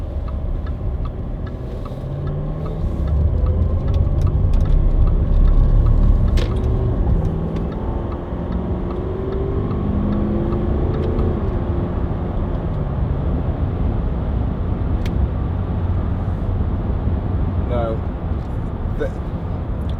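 A Range Rover 4.4 TD V8 cruises along a bumpy dual carriageway, a steady low road and engine rumble filling the cabin with occasional thumps and ticks, while someone talks over it throughout.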